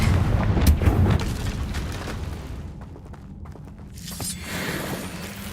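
A Confringo fire spell bursts in Hogwarts Legacy, a deep booming blast up close that rumbles and fades, with a second softer rush of noise swelling near the end.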